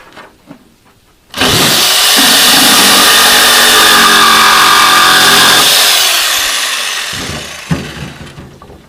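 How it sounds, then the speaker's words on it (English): An angle grinder carving and touching up a carved piece spins up suddenly into a loud, sustained whine with a gritty rasp, holds steady for several seconds, then winds down and fades with light knocks and handling at the end. "And then just touch it up with the grinder."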